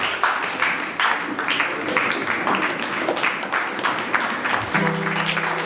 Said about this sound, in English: can we give a standing ovation as we celebrate Ms. Priscilla Adebayo?